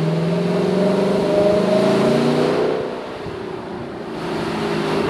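A Lexus LC 500 V8 hums while driving, its engine note rising and falling as it accelerates, then briefly easing before it builds again, steady and close with no talk over it.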